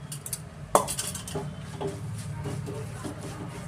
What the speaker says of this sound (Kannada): ಮೀಡಿಯಮ್ ಫ್ಲೇಮಲ್ಲೇ ನಾವು ಇದನ್ನು ಈ ಥರ ಕೈ ಆಡಿಸ್ತಾ ಇರಬೇಕಾಗುತ್ತೆ